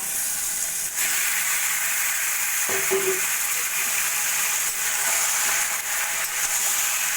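Boiled elephant foot yam stems go into a pan with already-fried jackfruit seeds, giving a steady loud broadband hiss of frying that runs the whole time, with a brief soft clunk of the stems dropping in partway through.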